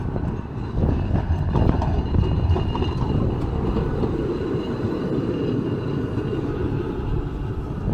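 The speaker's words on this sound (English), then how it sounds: "One of the older trams here." An older Blackpool tram rolls past on the seafront promenade, a steady loud rumble of wheels and motor lasting throughout with no voices over it.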